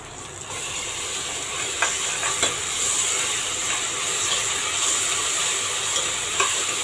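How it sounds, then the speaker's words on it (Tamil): Fresh ginger garlic paste sautéing in a pan for prawn biryani, giving a steady loud hiss of frying with occasional light clicks of a spoon stirring, close up, with no speech. "இஞ்சி பூண்டு பேஸ்ட்டு போட்டுட்டு அது பச்சை வாசனை போகிற அளவுக்கு நல்லா வதக்கிடலாம்."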